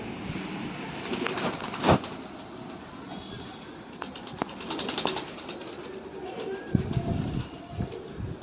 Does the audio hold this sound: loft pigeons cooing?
yes